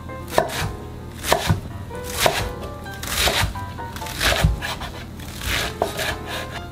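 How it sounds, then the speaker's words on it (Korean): A knife chops enoki mushrooms on a cutting board into short pieces, giving a series of crisp, close thuds spaced about a second apart with soft scraping between strikes. "먹기 좋게 한 2 내지 3cm 정도로 자르세요."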